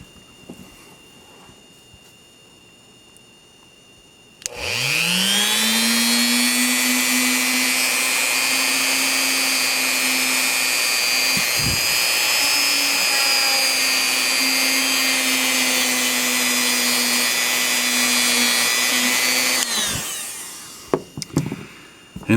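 A power tool spins a Q-tip to polish the channels of a Smith & Wesson third-generation pistol, a sharp whine that starts suddenly and holds for about fifteen seconds, then cuts off.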